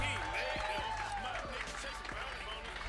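Comedy club audience applauding at the close of a set, steady clapping and crowd noise throughout, with a few whoops and voices rising over it.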